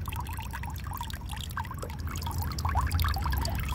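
Water runs and trickles steadily at a house where mushrooms are being grown, a continuous splashing flow that swells slightly louder near the end, with no voices over it.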